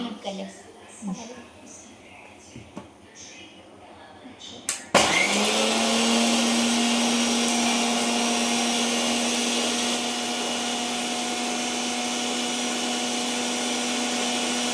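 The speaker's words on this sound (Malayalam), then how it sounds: "അത് അരക്കാൻ പോവാണ്." A kitchen mixer grinder switches on midway and grinds ingredients with a loud, steady whirring drone that continues to the end, after a stretch of quieter background sounds and a voice speaking.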